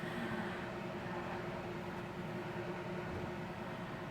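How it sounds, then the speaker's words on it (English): A camper van's fresh-water pump runs during tank sanitizing, giving a faint, steady low mechanical drone that stays even throughout with no talk. "Turn on my water pump."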